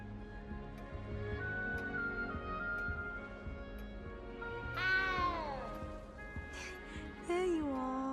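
A cat meows in the video game Hogwarts Legacy, a few rising and falling mewing calls heard mid-clip and near the end, moderately close, over soft background music.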